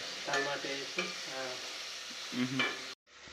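Eggs frying with onion in a pan for egg curry, a steady close sizzle broken by repeated scraping stirs, ending in a brief silence before the sizzle resumes.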